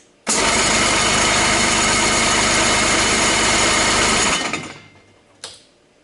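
A hard-to-start Yamaha outboard motor fires and runs loudly for about four seconds with a steady buzzing rattle, then cuts out and dies away, followed by a brief faint clunk.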